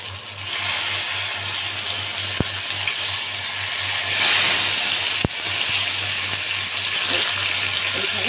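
Pointed gourd (potol) pieces fry in oil in a frying pan, giving a steady, loud, continuous sizzle up close with a couple of brief clicks over it.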